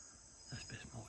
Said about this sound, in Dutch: Hoor die krekeltjes, wat een rust geeft dat.